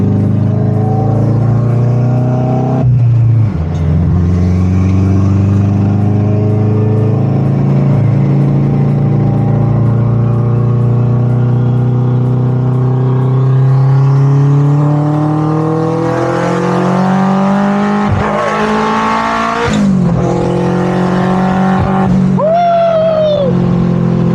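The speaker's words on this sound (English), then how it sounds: "Very loud car right now." A loud Honda CR-V engine drones, then revs repeatedly, pitch climbing and dropping in sharp bursts, close and continuous throughout.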